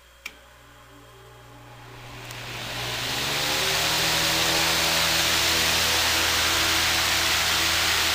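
Patton high-velocity fan switched on and spinning up to high speed, a click followed by a rising whoosh that settles into a loud, steady roar of rushing air with a low motor hum.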